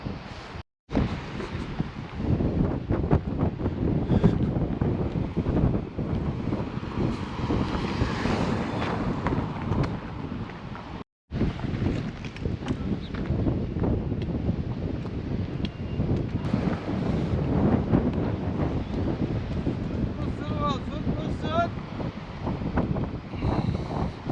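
Strong wind at Hamsilos Bay, Sinop, buffets the microphone with a steady, heavy roar, two brief dropouts breaking it, and faint water sounds underneath.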